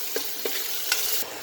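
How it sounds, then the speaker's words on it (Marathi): Tempering of ginger, garlic, curry leaves and onion sizzles in hot oil in a pressure cooker for a jackfruit-seed curry, a steady close hiss with a few soft stirring knocks and no voices. "हे फोडणी टाकून घेऊया।"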